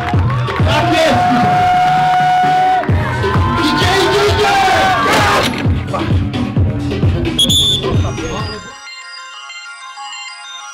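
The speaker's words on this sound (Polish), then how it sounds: "Gromkie brawa, zróbmy hałas!" A crowd at a 2019 Polish strongman competition cheers and shouts loudly while an announcer yells over them. The roar eases after several seconds and gives way to a brief electronic tone.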